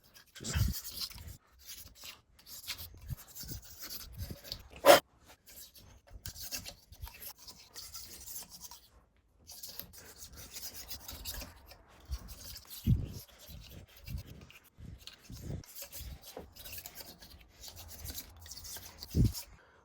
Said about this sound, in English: Give it a little razor blade action next.